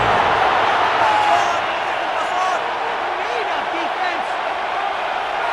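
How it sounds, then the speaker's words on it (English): A stadium crowd in the Madden NFL 26 football video game, Atlanta Falcons versus New Orleans Saints, roars as a steady, dense wash of cheering building toward third down, with faint whistles and shouts inside the noise. "This crowd into it now as we get to 3rd down."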